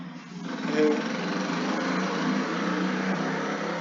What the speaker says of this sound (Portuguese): Moto passando aqui.